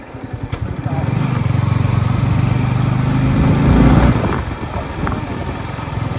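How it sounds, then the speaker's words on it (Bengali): A motorboat engine drones steadily and loud up close, rising slightly in the middle, with voices talking faintly underneath. "এই নৌকা চালাচ্ছে দেখো গাইজ, কত ভালো লাগে"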